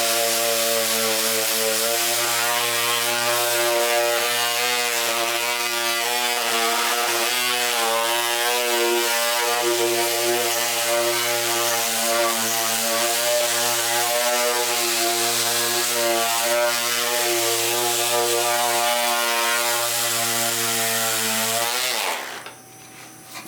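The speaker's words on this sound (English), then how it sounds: "we're gonna run the orbital sander across the front, get rid of these little glue marks, take off the fuzzies" Electric orbital sander running steadily across the front face of a thinline Jazzmaster guitar body, clearing glue marks and fuzz, a loud continuous whirring drone that cuts off near the end.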